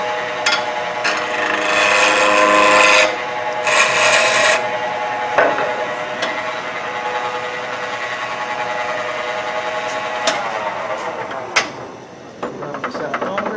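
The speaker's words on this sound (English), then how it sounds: "I can do the same thing with the bowl gouge." Bowl gouge cutting a spinning piece of wood on a lathe, giving a rough scraping rasp in a couple of strong bursts, then lighter intermittent cuts and taps over the turning hum, with no talking.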